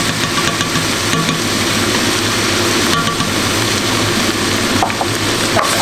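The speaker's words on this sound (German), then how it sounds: "Wenn auch das Hackfleisch schön angebraten ist, geben wir ein bisschen Tomatenmark dazu." Minced meat fries with tomato paste in a hot pan for a lasagne, giving a steady, dense sizzle and crackle. It sounds close and continuous, with occasional scraping from stirring and no voices.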